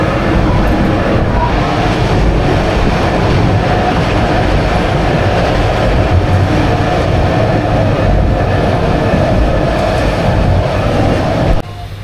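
The Subarno Express runs fast between Dhaka Cantonment and the airport, its wheels and carriages making a loud, continuous rumble with light clickety-clack, close and unbroken.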